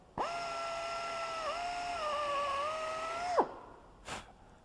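Drill cutting a number 40 hole through the bushing of an anchor nut jig, a steady close high-pitched whine lasting about three seconds that wavers slightly in pitch as the bit bites, then stops abruptly, followed by a brief faint knock.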